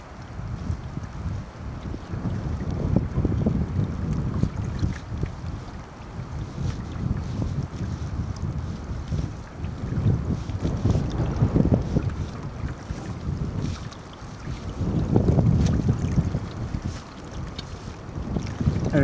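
Wind roaring across a microphone while sailing a boat on Brennan Lake, with gusty low buffeting that swells and fades in waves and faint water sounds beneath, continuous and loud, no voices.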